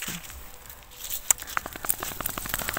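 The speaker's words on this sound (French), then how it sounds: "J'entends le bruit de l'eau sur les feuilles." Soft, scattered drips of fine rain on leaves fall irregularly, quiet and close, growing a little busier toward the end.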